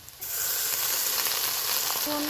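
A little water hits fried onion, garlic and spice paste in a pan for a jackfruit and potato curry, and a sudden loud sizzle erupts and holds steady, close up.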